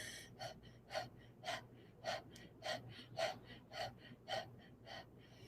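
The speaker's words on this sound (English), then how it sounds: "just a few moments of that panting" Rhythmic panting as a singer's breath exercise: about ten short, evenly spaced breathy huffs, close and fairly quiet, with no talking.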